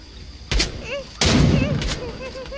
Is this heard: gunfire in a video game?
yes